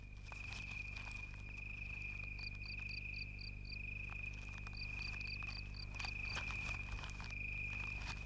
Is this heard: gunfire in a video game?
no